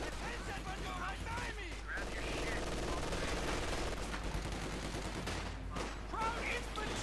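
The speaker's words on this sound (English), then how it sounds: "MG42 firing away there" MG42 machine gun fire in the video game Company of Heroes 2, rattling bursts within a dense, continuous wartime battle mix of gunfire and explosions, with a voice talking over it.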